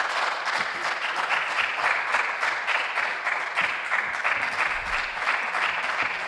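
Sustained applause from a large audience at a university business quiz national championship, dense and steady, continuing without pause for several seconds.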